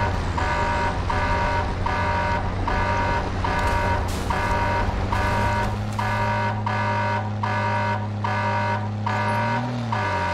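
Rapid, regular electronic landmine proximity beeps from the video game Modern Warfare 2 repeat insistently over a loud engine-like drone, evenly spaced and continuous throughout.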